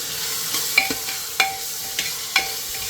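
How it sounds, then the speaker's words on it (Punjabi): Onions frying in a pan until browned, sizzling steadily while a spoon scrapes and stirs in several sharp strokes, no voices. "ਪਿਆਜ਼ ਬ੍ਰਾਊਨ ਹੋਣ ਤੱਕ ਹੁਣ ਆਪਾਂ ਚੰਗੀ ਤਰ੍ਹਾਂ ਇਹਨੂੰ ਸੇਕ ਲਗਾਉਣਾ ਹੈ"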